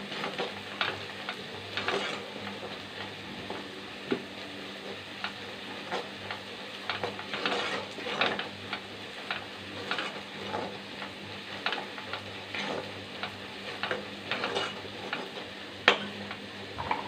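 Onions are sautéed in oil for an egg gravy, with a soft continuous sizzle and a spoon stirring and tapping against the pan at an irregular rhythm, close and moderately quiet, with no talk.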